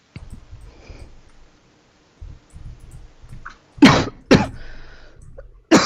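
One person lets out a couple of sharp, loud sneezes in quick succession indoors after a stretch of quiet with faint murmuring.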